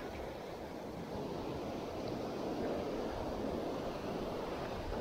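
Mediterranean waves break on the shore at Ashkelon, a continuous loud surf wash with wind noise on the microphone, steady and unbroken with no voices.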